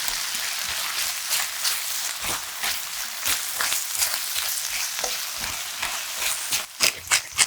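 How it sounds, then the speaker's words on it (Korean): Sliced rice cakes for tteokguk and onion stir-fry in a hot pan, with a loud, continuous close sizzle broken by frequent scraping stirs and a few sharper utensil knocks near the end. "떡국떡이 부드러워지면 양파를 넣고 골고루 저어주고, 양파가 숨이 죽어 단맛이 올라올 때까지 볶아주세요."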